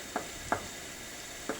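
Ground meat cooks in a cast iron pan for a Mexican lasagna, giving a faint, steady sizzle broken by three quick spatula scrapes or taps.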